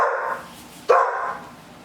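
A single sharp dog bark rings out close and loud, trailing off with a brief echo after a fading earlier yelp.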